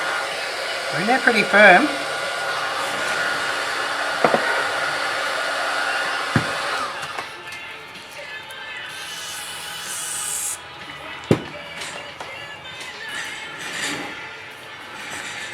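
A heat gun blows a steady airy roar onto a Samsung A30 phone screen, loud and continuous with a few small taps and clicks, while a person speaks briefly over it.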